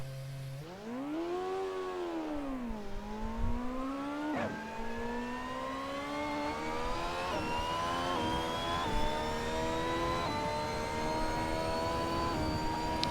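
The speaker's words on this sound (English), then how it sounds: "Ah yes, the V8 sound, it's back." A high-revving Ferrari F138 Formula One V8 racing engine in the game Assetto Corsa screams and climbs in pitch through repeated gear changes of a 7-speed gearbox, steady and loud with no talking.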